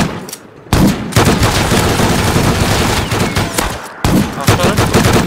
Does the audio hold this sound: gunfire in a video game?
yes